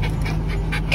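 Dogs riding in a car make a short, loud whimpering bark over a steady engine and road rumble.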